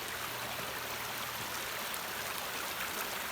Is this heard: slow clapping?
no